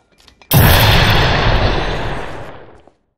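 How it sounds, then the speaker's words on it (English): A single big grenade blast in the video game The Chronicles of Riddick: Escape from Butcher Bay, a sudden loud boom followed by a long rumbling decay that fades over a few seconds. "Grenade!"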